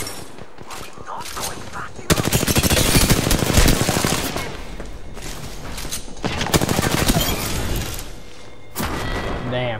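Rapid game gunfire from the shooter Gun Run, with bursts of automatic fire swelling loud around the middle and again near the end over a steady background bed, with a voice talking in between.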